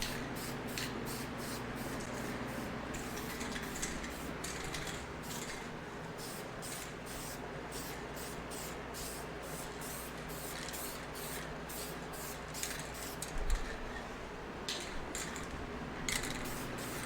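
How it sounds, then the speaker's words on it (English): A light mist of black guide coat paint is sprayed onto a Suzuki motorcycle gas tank, steady hissing bursts from a spray can pulsing in short repeated passes, close and fairly quiet, with no talking. "Now we're going to get the guide coat on. Just a light mist of black paint"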